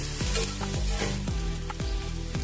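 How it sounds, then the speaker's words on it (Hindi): Ginger, garlic and onions frying in a pan, a close continuous sizzle with repeated spatula strokes scraping in a loose rhythm, no voices. "अदरक लहसुन अच्छे से भुन गया है और प्याज भी अच्छे से भुन गए हैं"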